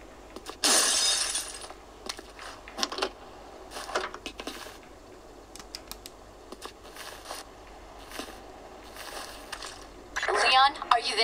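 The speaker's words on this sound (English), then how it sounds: "Let's break the glass." Glass shatters in the Resident Evil 6 video game: a sharp, loud crash near the start, then quieter clatter and footsteps, and a second bright burst of breaking glass near the end, with game voices around it.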